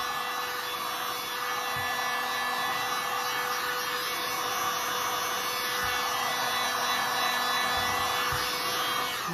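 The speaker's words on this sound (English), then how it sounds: "So let's heat up the back. Always moving the heat gun, not leaving it in the same spot." Steady broadband rushing blow of a heat gun passed over the back of an acrylic pour painting to soften resin drips, continuous and even at close range with a faint constant hum and a few soft bumps.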